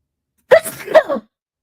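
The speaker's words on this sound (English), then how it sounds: "I gotta sneeze." A single sharp human sneeze with a quick inhaled build-up and burst, close and clear, followed by a short trailing vocal sound, with silence before and after.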